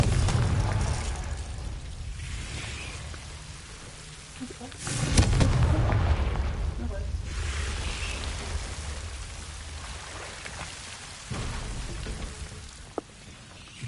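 Confringo fire-blast spell in Hogwarts Legacy, several loud booming bursts over a constant rushing, rain-like background, with a big blast around the middle and a smaller one near the end.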